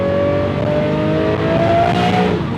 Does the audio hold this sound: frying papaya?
no